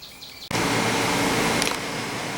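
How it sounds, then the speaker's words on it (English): An air conditioner fan in a room switches in abruptly with a loud, steady broadband whoosh that holds constant to the end. "a lot of the noise that you hear is actually coming from the air conditioner"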